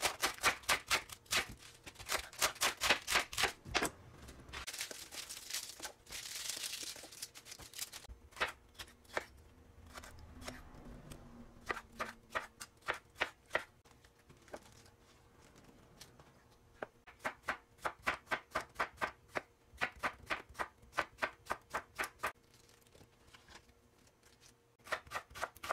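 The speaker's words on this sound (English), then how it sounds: "we're going to cut up our vegetables and get them in our bowl" Knife chopping vegetables for a salad on a cutting board, close and fairly quiet, in quick rhythmic runs of taps broken by short pauses.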